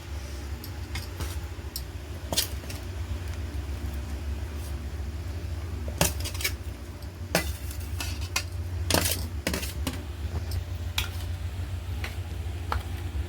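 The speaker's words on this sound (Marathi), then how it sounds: "आता ही कैरी आपण सगळ्या मसाल्यामध्ये असे मिक्स करून घ्यायचे" Raw mango pieces are stirred into pickle spice masala for a lime-free mango pickle, giving scattered light clicks and scrapes of a utensil against a bowl over a low steady hum.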